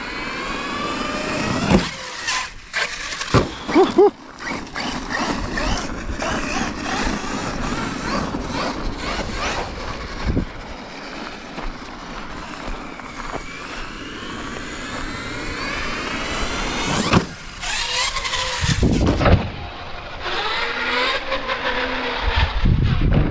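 An HPI Savage XL Flux V2 RC monster truck on 6S power driving at speed produces a loud, continuous electric motor whine that rises and falls in pitch, broken by a few sharp bursts and brief drops.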